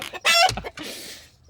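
Chickens cluck and squawk loudly up close in a goat pen while being moved to free range, a sharp crowing cry followed by excited clucks and rustling.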